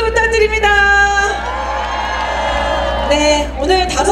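Crowd at a political rally in Daejeon cheering and whooping loudly and continuously, with sustained voices and a tonal sound running through, swelling again near the end.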